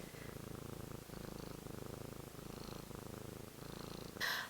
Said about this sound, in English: Oh, you're purring so good.